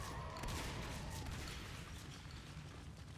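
Level 2 shotguns firing in the video game Natural Selection 2 make a dense, fairly quiet clatter of rapid shots and mechanical noise that runs steadily throughout.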